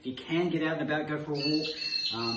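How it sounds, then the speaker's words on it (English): A bird squawks and chirps outside through the open kitchen doors on a warm day in Queensland, with bright calls heard under and between a woman's speech. "there's a bird out there"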